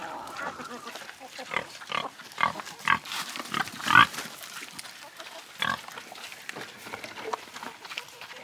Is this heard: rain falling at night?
no